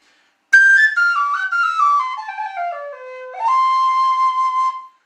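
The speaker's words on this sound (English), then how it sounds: "Lovely whistle, absolutely beautiful." A single old NR Chieftain whistle is blown in a long, clear tone sliding downward in steps, then a brief pause and a steady higher blast, loud and alone.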